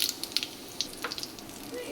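Mustard seeds, cumin, red chillies and curry leaves crackle and sizzle in hot tempering oil for Gujarati dal dhokali, a steady near fry with scattered sharp pops and no talk.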